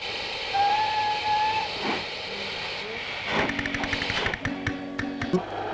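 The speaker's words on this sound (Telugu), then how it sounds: "రైలు వెళ్ళిపోతుంది" A train departing in a Telugu comedy scene: a hissing steam whistle sounds, followed by rhythmic chugging and clanking bursts with more whistle blasts, at moderate distance without talk.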